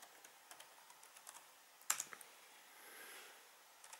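A command is typed on a Pinebook Pro laptop keyboard as a string of faint, light key taps with one sharper click near the middle, quiet and close, with no talk.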